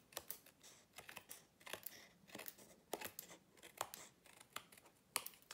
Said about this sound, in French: je vais venir couper le long de la carte pour que ça soit plus simple ensuite